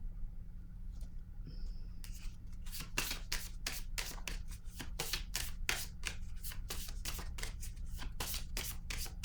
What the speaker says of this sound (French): Je vais piger une carte sur cette zone encore.